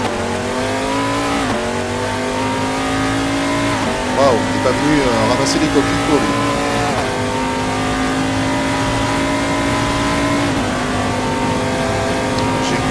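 Ligier race car in a VR racing video game, its engine revving and shifting through gears in a loud continuous drone with rising and falling pitch, while someone talks excitedly over it.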